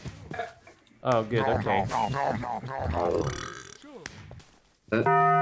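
A long, loud, voiced burp lets out during a Minecraft gaming session, with people chatting and reacting just before and after.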